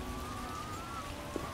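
Steady heavy downpour in The Witcher video game, a dense, even hiss of rain with a faint tonal whine running underneath and a single small drip-like tap near the end.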